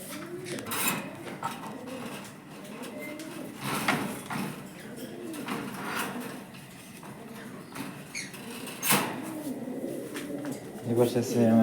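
Pigeons at a pigeon farm coo in repeated soft, rolling phrases close by, layered and nearly continuous, with occasional sharp clicks and rustles between the calls.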